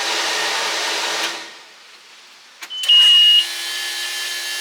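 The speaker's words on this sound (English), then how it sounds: "Here's the blower." A steady electric blower whirs in the engine compartment of a 2013 Bryant 220 boat, following a louder broadband rush that fades out, with a brief click and a short high tone as the blower starts and keeps running.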